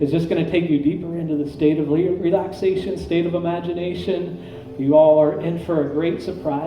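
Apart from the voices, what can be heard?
No everyday noises stand out.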